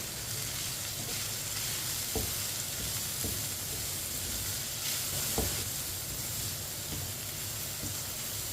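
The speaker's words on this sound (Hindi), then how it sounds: "थोड़ी सी पत्ता गोभी डाल लेंगे बरीक कटी हुई, 1 शिमला मिर्च बरीक कटी हुई, मिक्स कर लेंगे" Chopped cabbage and capsicum stirred in a hot, sizzling pan while making chicken macaroni, a steady fry hiss with a few sharp scrapes and clicks of the spoon against the pan.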